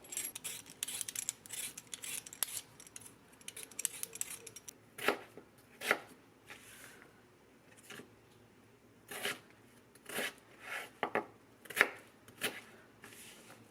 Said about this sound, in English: once you diced up your potatoes